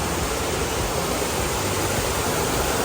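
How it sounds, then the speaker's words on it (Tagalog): River stream water flows near a Japanese restaurant in Asakura, making a loud, steady broadband rush with no pauses and no voices. "yung dumadaloy na water"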